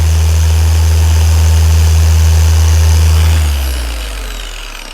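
Zentool 21E2 polishing machine running with the pad on at speed 6, a loud steady mechanical hum that winds down near the end, with no talk.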